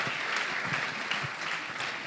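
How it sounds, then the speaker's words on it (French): Audience applause at a business awards ceremony in Cantal, steady dense clapping from a crowd throughout, with no clear speech over it. "On applaudit"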